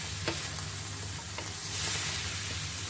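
Boiled chickpeas being fried with bell pepper in a pan, giving a steady close sizzle and crackle with a few light stirring scrapes, with no one speaking over it.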